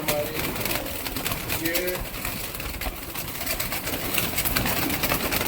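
Soft coos of Punjabi Kalsara pigeons drift through steady background noise while someone speaks briefly nearby.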